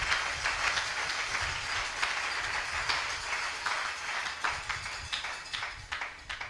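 A church congregation applauding during a worship service, steady dense clapping that holds for several seconds, moderately loud, with no talking over it.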